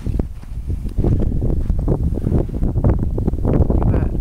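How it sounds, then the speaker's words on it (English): Desert wind gusts in the Mojave buffet the microphone with a continuous rumbling roar, rising and falling throughout, with faint rustling beneath. "It's kind of windy out today."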